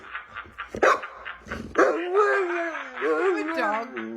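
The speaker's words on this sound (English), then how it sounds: "there's a dog on the other end" A dog barking over a phone line, a few sharp yips and barks at first, then whining, yelping sounds that are thin and close.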